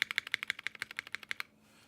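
Rapid keystrokes on a Hex.3Xv2 custom mechanical keyboard with MX Black-style switches: about fifteen crisp, close clicks in a steady burst lasting a second and a half, then quiet.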